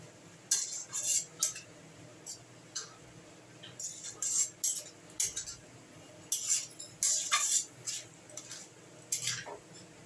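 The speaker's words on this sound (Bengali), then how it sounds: "ধনেপাতাটা দিয়ে একটু নাড়াচাড়া করে নেবেন।" Chopped coriander stirred into simmering flat beans in a pan, a metal spoon clinking and scraping against the pan in irregular bursts, close and fairly quiet with no talk.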